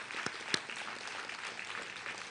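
Commencement audience in a university hall applauding graduates, a steady, dense wash of clapping with one sharper clap standing out near the start, moderately quiet and continuous throughout.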